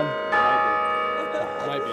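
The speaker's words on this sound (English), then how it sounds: "they did a 4-minute bell session" Church bells ring during a wedding ceremony, a sustained bright, resonant peal that swells after a brief quiet start and hangs on with long ringing overtones, with speech faintly present underneath.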